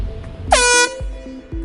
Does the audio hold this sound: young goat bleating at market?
no